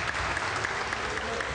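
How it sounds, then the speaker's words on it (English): Crowd applause at a Weber Cup ten-pin bowling match, a steady burst of clapping from a large audience with a voice talking faintly over it. "now the crowd's getting involved because they know America have won."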